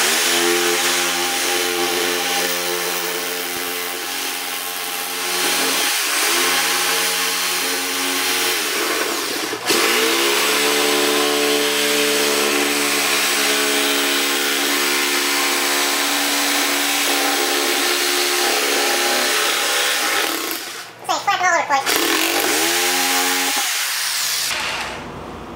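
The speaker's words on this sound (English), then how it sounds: "break out the jigsaw. Works a lot better. Just a lot of noise." A loud, continuous buzzing jigsaw cutting steadily for a long stretch while building a dust-free drying box, with brief dips where the blade slows or pauses, close and dominant.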